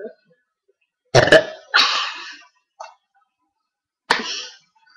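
Several loud, raspy burps close to the mic, two in quick succession, then a short one and another after a pause of silence.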